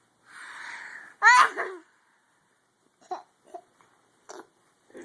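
A small child imitates a grown-up's sneeze, a breathy wind-up followed by a loud explosive burst, then a few short squeaky vocal noises after a pause.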